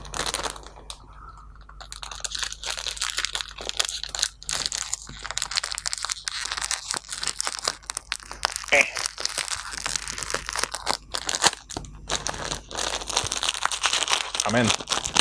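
Loud, close crinkling and crunching of a wet palette's plastic packaging being torn and pulled open, irregular bursts continuing throughout with a brief voice.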